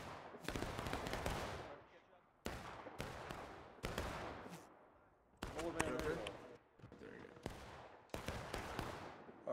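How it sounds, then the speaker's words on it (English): Cannon canister shot in the War of Rights game fires in a run of about five heavy booming blasts, a couple of seconds apart. Each one is loud and close, with a long decaying rumble. "One man goes down from that canister shot."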